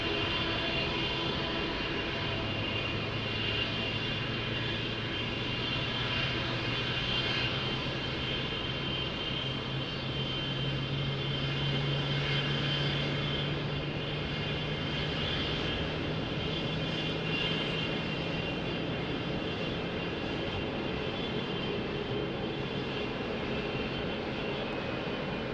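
A Boeing 777 crosses the runway at Lisbon Airport, its jet engines giving a steady, continuous roar with a low drone heard alone throughout.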